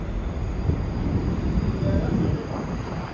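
Subway trains turning on curved track at Canal Street Station give a continuous, fairly faint rumble and rattle with a thin squeal, heard from a platform as steady background noise.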